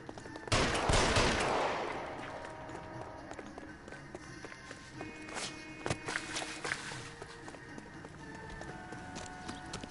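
Gunfire in the video game L.A. Noire: a loud close shot with a burst of rattle near the start, then scattered sharper cracks and clattering impacts at a distance, with faint ambient noise between.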